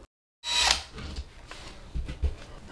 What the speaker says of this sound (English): Then I'm going to screw this into the toggle.